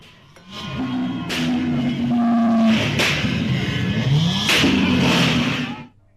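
Loud bikes and cars rev hard at a vintage car expo in Davangere, several engines roaring and rising in pitch close by, with crowd noise mixed in throughout.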